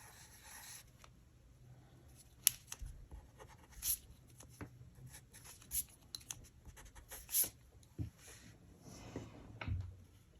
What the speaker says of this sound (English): I'm going to draw two circles for his eyes.